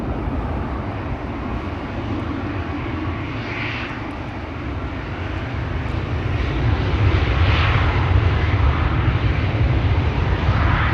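A SkyTeam-liveried airliner passes at Schiphol Airport, its broad engine roar steady and fairly loud, swelling slightly stronger toward the end with no one talking.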